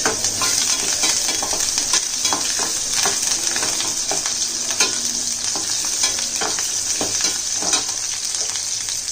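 Ingredients for a Tamil fish curry gravy sauté in hot oil in a pan, with a steady close sizzle and occasional stirring scrapes and clinks, and no talk.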